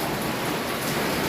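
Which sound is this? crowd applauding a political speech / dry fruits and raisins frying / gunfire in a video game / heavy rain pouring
heavy rain pouring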